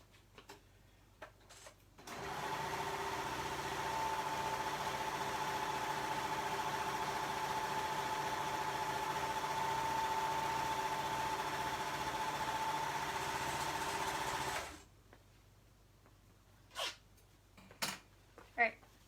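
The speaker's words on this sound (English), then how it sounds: "I'm going to serge right around that edge really quick." A serger stitches around a fabric edge in one continuous whirring run of about twelve seconds, steady and close, with quiet handling clicks before and after.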